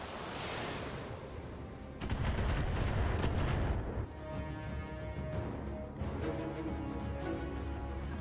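Mech weapons fire in the BattleTech video game, with a heavy burst of booming shots and rumbling impacts that breaks in suddenly, fades, and is followed by quieter game effects.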